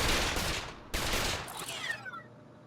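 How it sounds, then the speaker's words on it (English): Dual pistols fired in LittleBigPlanet, a rapid burst of loud gunfire, then a second volley that tails off into fading, whistling ricochet-like echoes. "So yeah, so this is the dual pistols."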